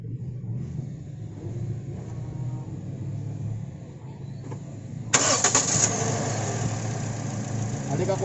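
A Toyota Altis with an ignition coil pack fault idles with a low, uneven rumble. Partway through, a brighter, louder mechanical whir joins in and continues to the end, with a voice speaking over it.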